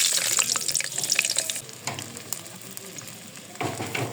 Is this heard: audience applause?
no